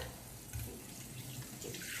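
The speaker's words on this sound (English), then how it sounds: "I've got to wash it with running water from the tap here" Tap water runs steadily into a fine strainer while sago pearls are rinsed for a sago gula melaka dessert, making a close, continuous rushing splash with no talk.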